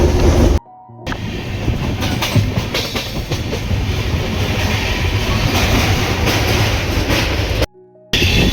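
The Kanchankanya Express rolls through Jaldapara National Park in North Bengal after leaving Madarihat, with loud continuous wheel rumble and rhythmic clickety-clack over the rails, heard from on board.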